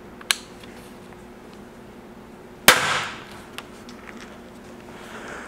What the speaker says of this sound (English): add another 50 grains to the bolt and see what a 400 grain bolt looks like coming out of the bow